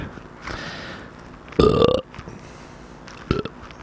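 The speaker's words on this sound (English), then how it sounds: "Burp for the camera" A single loud, drawn-out burp close up in a garage, with quieter breathy noises before it and a short grunt shortly after.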